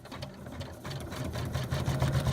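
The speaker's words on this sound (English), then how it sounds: "the first step we're going to stitch out is going to be the placement stitch" A computerized quilting or embroidery machine sews the placement stitch on a quilt block, giving a fast, even mechanical whirring with a rhythmic needle pulse that grows slightly louder, close and clear with no talking.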